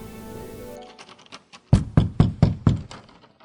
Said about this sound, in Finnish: hän koputtaa rohkeasti painavaan oveen